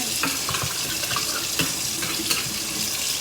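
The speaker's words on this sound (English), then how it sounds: "I am going to rinse my mint off in the sink here." Kitchen tap running steadily into a plugged sink as water fills it for rinsing freshly harvested chocolate mint, a continuous close splashing hiss with small spatters, no voices.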